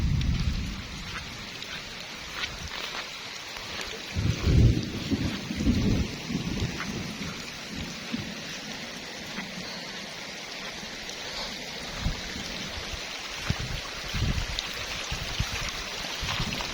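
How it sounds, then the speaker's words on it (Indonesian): Heavy rain falls by a river during a fishing trip, a continuous hiss of drops with low rumbles of thunder swelling in the middle and no talking. "Hujan guys ya."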